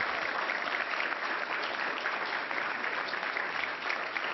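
Steady, dense applause from a crowd at a New York governor's announcement, continuous and even throughout with no pauses.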